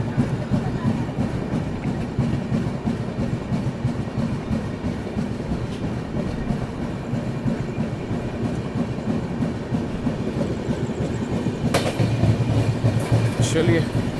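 Duronto Express running between Prayagraj and Mumbai, heard from inside a 3AC coach: a steady loud rumble with rhythmic wheel clatter throughout, with brief sharper rattles near the end.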